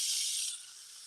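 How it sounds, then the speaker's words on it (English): Salt grinder grinding: a steady, bright, gritty hiss up close, louder for the first half second and then easing off slightly, with no talk. "My salt grinder like really grinds really well."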